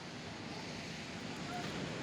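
Waves washing along a seashore, a steady broad surf roar with wind noise buffeting the microphone, continuous and close with no clear breaks.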